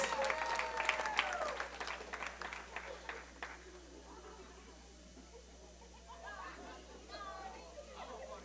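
Wedding guests clap loudly at a reception during a waltz, the applause fading to a murmur as chatter and a voice rise at the end.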